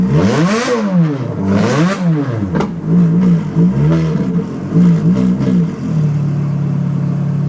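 A Ferrari 430 V8 revs hard in race mode, rising and falling in loud repeated swells of throttle, a couple of sharp pops between them, then it settles into a steady idle close by.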